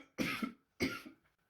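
A man gives two rough, throaty coughs about half a second apart, close and clear, with no talking.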